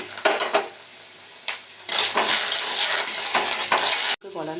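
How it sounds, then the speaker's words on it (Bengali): Chopped tomatoes and green chillies go into cumin frying in oil in a pan. A loud sizzle and hiss rises and keeps going, with a few knocks of a utensil and a sharp clatter near the end. "এবার আমি এর মধ্যে দিয়ে দেবো টমেটো আর কাঁচা লঙ্কা"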